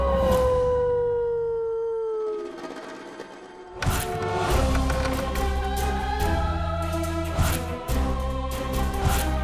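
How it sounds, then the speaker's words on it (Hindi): A dog howls outside a house at night, long wavering cries that fade before a louder stretch of dramatic music with sharp accents takes over. "उस रात छलावे ने कुत्ते का रूप धारण किया और घर के बाहर रो रहा था।"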